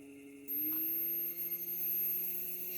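A small electric motor in a free-energy grounding and inductor demonstration hums steadily, its tone stepping up slightly as the speed rises, close and continuous with no talk.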